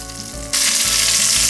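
Beef rump sears in a hot pot, a loud continuous sizzle that swells sharply partway through, with faint stirring underneath and no talking.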